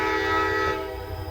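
Kiamichi Railroad SD40-2 diesel locomotives pushing a freight train near Idabel and Garvin, Oklahoma, give a loud, close horn-like tonal blast over engine rumble that fades slightly after a moment.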